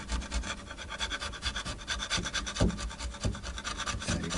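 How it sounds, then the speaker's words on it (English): A sharp chisel pares and scrapes lightly at wood on a Reloved Trekki guitar, making a steady close rasping, rubbing texture with a few brief sharper scrapes and no talk. "So I've got this deliciously sharp chisel"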